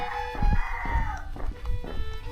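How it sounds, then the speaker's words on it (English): A cockerel crowing in a quiet village at dawn, its drawn-out call clear at middle distance over faint low rumbling and thumps. "That's the only noise there's been in this village, in that cockerel."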